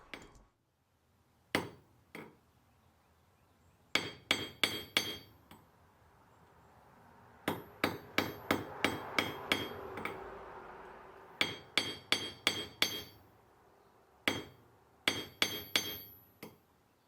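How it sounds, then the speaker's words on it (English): Hammer strikes on a steel ring mandrel while sizing an almost pure gold engagement ring of 1% titanium gold, sharp metallic clinks in quick bursts of four to six blows separated by pauses, close and clear with no talk. "I hammered on the mandrel to bring the ring to final size."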